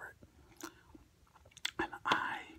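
Close-up eating of broccoli cheddar soup, with soft chewing and a few wet bites and slurps in separate bursts, the loudest near the end, alone with no talk.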